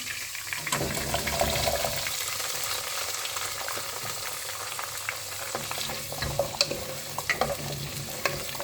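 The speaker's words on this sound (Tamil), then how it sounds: "இந்த பூண்டும் வெங்காயமும் வதங்கிட்டோம் கொஞ்சம் நேரம்." Whole garlic cloves and whole onions sauté in oil in a pan, a steady close sizzle with occasional stirring scrapes and clinks growing more frequent toward the end.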